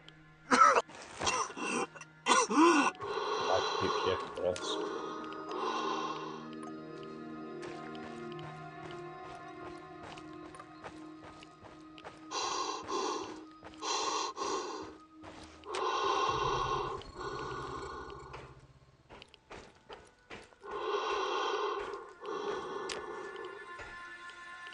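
A voice imitates heavy dying breathing with rasping gasps, coughs and throaty wheezes, coming in irregular bursts separated by pauses, close and fairly loud.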